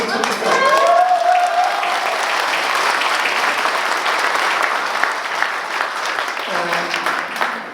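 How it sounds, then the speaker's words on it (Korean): An audience at a Korean political rally applauding, a dense sustained wave of clapping that stays loud before easing slightly toward the end, with a voice faintly over it. "제가 하는 말이 맞으면 또 그게 맞다고 박수 쳐주세요."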